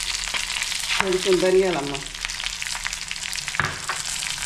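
Dried red chillies sizzle and crackle steadily in hot oil in a pan, a close, continuous frying hiss with a voice speaking briefly over it.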